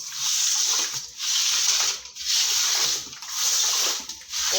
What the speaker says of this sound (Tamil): கல் உப்பு போட்டு நல்லா தேய்ச்சி உரசணும்